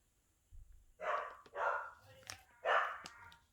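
A dog barks indoors in a series of four moderately loud, evenly spaced barks at middling distance, with a few faint clicks between them.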